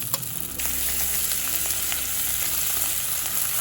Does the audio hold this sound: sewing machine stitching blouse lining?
no